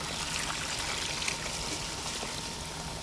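Water carries gravel-laden material through a Gold Cube sluice, a steady close trickle and gentle rush of flowing water across the ridged tray, even and continuous with no voices.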